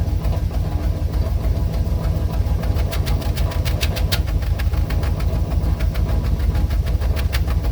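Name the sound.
car engine running with pulsing exhaust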